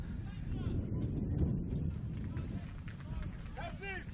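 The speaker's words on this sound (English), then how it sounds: "As that wind seems to pick up, but it's windy on this level." Wind gusts buffet the microphone on a stadium scaffold at a soccer match, a continuous low rumble throughout, with voices briefly audible toward the end.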